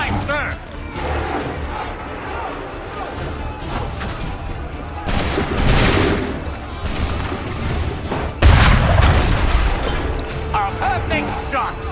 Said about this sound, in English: A perfect shot!